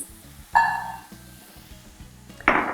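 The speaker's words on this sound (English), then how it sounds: "I'm going to saute the walnuts as well so that they develop a more richer taste" Walnuts sautéing in a pan, with a short bright sizzle as they go in, a quieter stretch of faint frying, then another sharp burst of sizzling near the end, close and clear with no talk.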